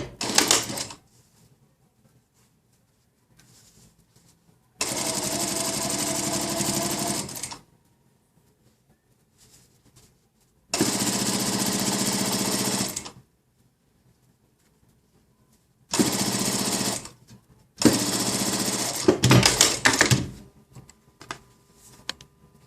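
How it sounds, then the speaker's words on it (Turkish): A sewing machine runs in four separate bursts of steady stitching, each a few seconds long with quiet gaps between, as a newspaper seam is sewn along the body of a skirt. The machine is close and loud, and no one speaks. "şu beden kısmına gazete dikişi vuruyoruz"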